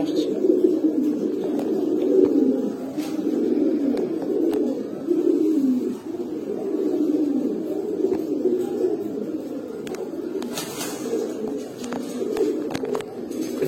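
Red-tailed (lal patti) pigeons coo in continuous low, throaty rolls, close and fairly loud, with faint clicks and rustles from a loft.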